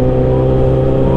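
A Suzuki GSX motorcycle engine runs loud and close, a steady heavy drone with strong low harmonics held at a constant pitch, without any talking.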